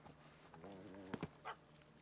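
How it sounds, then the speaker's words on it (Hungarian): A dog in The Witcher 3: Blood and Wine gives a short whimpering whine followed by two quick barks and a soft yip, all quiet and heard alone. "Kutya."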